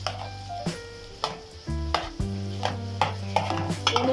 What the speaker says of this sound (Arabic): ونقلب ونقلب ونقلب حتى يتفرقعان ويتلبلبان ويتحمران هكذا